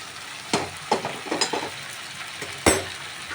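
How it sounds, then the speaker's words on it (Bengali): Pre-fried prawns added to a pan of capsicum curry, a low sizzle broken by several sharp clanks and scrapes of a utensil against the pan, close by. "চিংড়ি মাছগুলো দিয়ে দিলাম এর মধ্যে"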